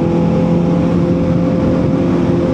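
A Honda CB650R 650cc motorcycle cruising on an expressway, its engine holding a loud, steady tonal drone mixed with constant wind and road roar, no talk.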